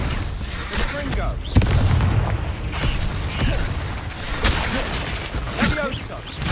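Spell blasts of the Confringo curse burst repeatedly in Hogwarts Legacy, sharp booms and crackling impacts scattered through busy game action, with a voice talking over them.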